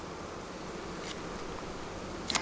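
A swarm of agitated honey bees from a defensive open hive, disturbed during fall feeding and frame moving, hums faintly and steadily, close by, with a brief rustle near the end.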